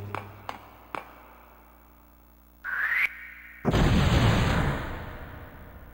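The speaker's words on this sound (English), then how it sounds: "Before an explosion occurs, you'll hear a whistling sound." A few soft ticks, then a rising whistle that cuts off, followed by a loud roaring explosion that slowly fades, from the Sega Saturn video game Burning Rangers.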